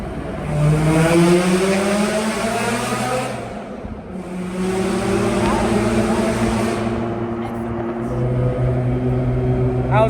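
A Mazda RX7 rotary engine pulls hard in second gear, rising in pitch through a long, loud rev, easing at a shift around four seconds, then climbing again, heard from inside the car.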